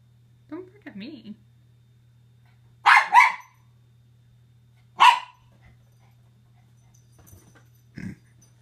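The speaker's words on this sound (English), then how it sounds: "Don't bark at me." Indoors after a bath, a dog lets out a few sharp barks spaced by pauses, with a soft whine or whimper earlier and a faint low hum throughout.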